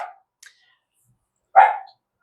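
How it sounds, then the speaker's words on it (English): A dog gives a single short, sharp bark at close range after a faint yip, set against near silence in a quiet room, with no one talking over it. "my dogs are barking"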